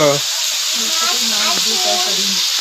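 Cauliflower cooks in a pan in a home kitchen with a constant bright sizzling hiss, while a person talks over it.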